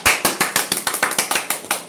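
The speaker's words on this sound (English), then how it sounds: "We're clapping up because we agree." Sharp hand claps in an even, quick rhythm, around a dozen crisp strikes in under two seconds, close and clear with no talk.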